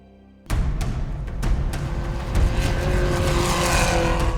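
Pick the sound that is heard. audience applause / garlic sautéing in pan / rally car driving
rally car driving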